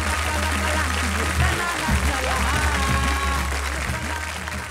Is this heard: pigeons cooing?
no